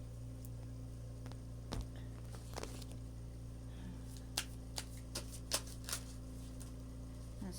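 Tarot cards are shuffled quietly during an outdoor reading at Slab City, producing soft scattered riffles and taps over a steady low hum.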